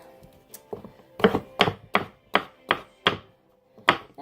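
Knife cutting thin vegetable slices on a cutting board, a run of about ten crisp, evenly spaced knocks that quicken slightly, close and clear with no talk.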